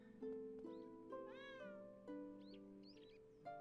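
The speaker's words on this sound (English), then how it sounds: "Okay, yeah, they definitely are cats." Several cats meow in the video game Inazuma Eleven GO Galaxy: a few short, rising and falling calls spread across the clip, quiet and layered over sustained game music tones.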